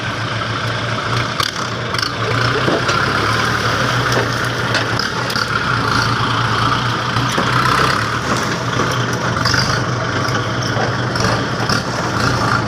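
An overloaded farm tractor carrying fertilizer labours steadily uphill in rainy-season mud, its low engine rumble holding constant with no letup, loud and close throughout.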